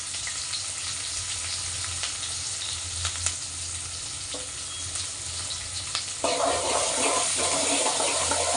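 Onion and tomato frying in a pan, a steady hiss of sizzling oil that turns louder and fuller partway through, with a few faint clinks and no talking.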